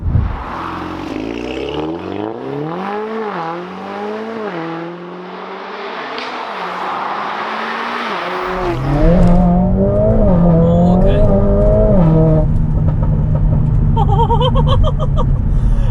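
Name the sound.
Mercedes-AMG A45S 500 bhp Stage 2 driving on country roads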